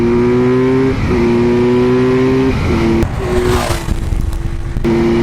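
A Kawasaki Z900 motorcycle engine revs up through rising gears, its pitch climbing, dropping at each shift and climbing again. The sound is loud and close.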